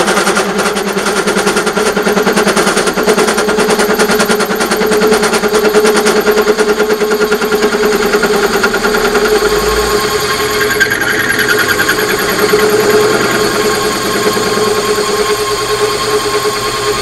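An Atlas 74 pillar drill bores a hole through a motor pulley without oil, giving a loud, continuous rapid chattering rattle over a steady motor hum that settles and smooths slightly partway through.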